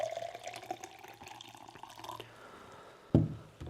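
Hot water is poured into a blender holding pumpkin seeds, a soft continuous trickle and splash that ends with a brief louder clunk near the close.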